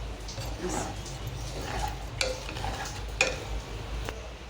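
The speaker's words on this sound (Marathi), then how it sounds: "एकदम लो गॅसवरच असं परतून घ्यायचं" Puffed rice for sushila poha is sautéed in a pan on a very low flame, a soft sizzle with a few sharp scraping clicks of a spoon while someone speaks quietly.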